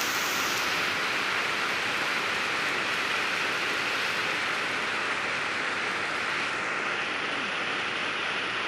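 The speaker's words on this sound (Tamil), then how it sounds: "நல்ல மழை" Heavy rain pouring steadily during a village festival, a dense, even hiss that fills the whole stretch with no pauses and no voices.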